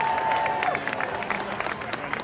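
A rally crowd by the White House breaks into applause, many hands clapping in a steady wash heard from within the crowd, with cheering and a voice faintly under it.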